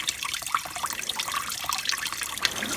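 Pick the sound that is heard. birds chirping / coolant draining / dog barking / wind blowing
coolant draining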